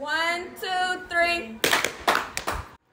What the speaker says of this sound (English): I need everyone to clap on three so that we can sync the audio